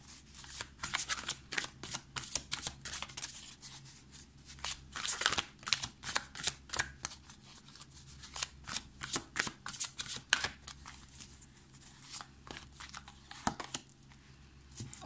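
Angel tarot cards are shuffled close by in a run of quick, crisp riffling and flicking bursts, soft and continuous, with no voices.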